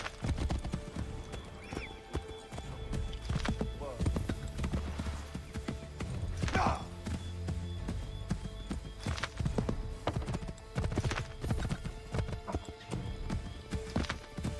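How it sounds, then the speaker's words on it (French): Steady clip-clop of horse hooves trotting along, with an occasional whinny, over a constant background of ambient noise and no speech. "Remonte sur ce cheval, Connor."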